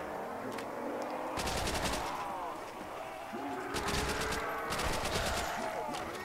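Repeated bursts of Thompson submachine gun fire in Call of Duty Zombies, several rapid volleys loud in the mix with gameplay noise between them.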